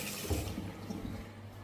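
Water runs from a shower tap in a bathroom, a faint steady hiss and trickle with a few small splashes, no voices.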